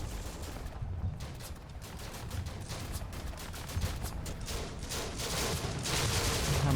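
Rifle volleys crackle through a WWII desert battle in Combat Mission: Afrika Korps at Gallabat, a dense continuous wash of overlapping distant gunfire that builds slightly louder toward the end.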